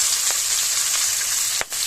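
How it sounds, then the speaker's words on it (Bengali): Stinging catfish sizzle in hot oil in a pan, a loud, dense, continuous crackle close up with a couple of brief clicks of utensils. "মাছগুলো ভেজে নেব হালকাভাবে"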